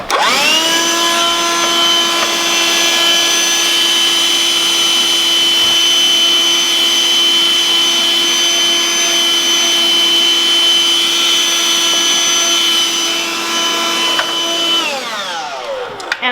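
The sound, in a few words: vacuum cleaner removing dust from Nurture Pro 360 incubator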